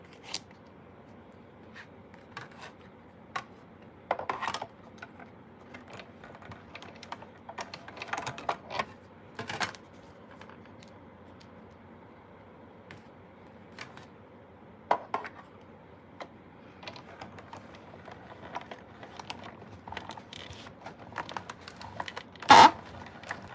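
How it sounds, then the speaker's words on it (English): Scissors slicing through two stacked sheets of paper on a craft table, a few crisp snips and rustles spread out with pauses between, close and fairly quiet, no talking. "I'm just going to layer these two pieces of paper together, and I'm just going to cut them twice, just like so."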